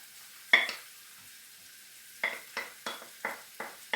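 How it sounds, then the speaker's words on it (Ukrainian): Cabbage meatballs frying in a pan, soft sizzling with a series of close, repeated scraping stirs in a steady rhythm. "І добренько обжарюємо їх до, майже до готовності."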